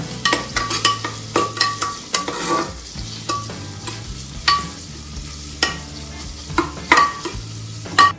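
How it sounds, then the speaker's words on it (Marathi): A spoon scrapes and clinks around a pan as onions are stirred in hot oil with tempered spices for masala khichdi, repeated close-up scraping strokes over a soft sizzle. "कांदा टाकूयात. हे सगळं व्यवस्थित मिक्स करून घ्यायचं."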